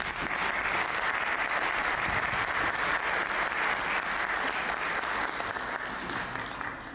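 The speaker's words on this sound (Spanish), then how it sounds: "pedimos el aplauso de todos los participantes" Participants at a poetry gala applaud to warm up the room, a continuous, even wash of clapping from a sizeable crowd held steadily at moderate loudness, with no speech over it.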